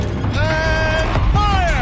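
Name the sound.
war machine turret rotating, from video game Horizon Zero Dawn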